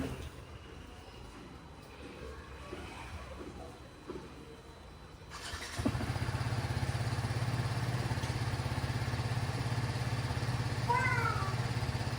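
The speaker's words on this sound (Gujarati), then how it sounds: "ગાડી ફૂલ સ્ટાર્ટ કરી દઈએ છે." A vehicle engine turns over and starts about halfway through, then settles into a steady low running hum that carries on to the end after a quieter stretch of background noise.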